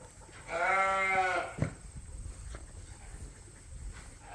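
A lamb on a sheep farm gives one loud, close, wavering bleat lasting under a second, followed by a thump and quieter farmyard shuffling.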